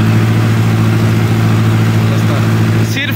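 A farm tractor engine works under load while pulling a super seeder through a field. It gives a loud, steady, low droning hum with a constant pitch, close by, for a few seconds.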